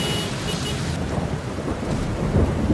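Heavy thunderstorm in a Filipino animated scene, with a dense, steady roar of pouring rain and rumbling thunder filling the whole stretch, loud and close with no voices.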